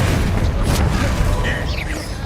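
A Confringo fire spell bursts into a loud, dense explosion during a duel in the video game Hogwarts Legacy. It is a sustained roaring boom that fills the whole moment, rumbling heavily before easing slightly at the end.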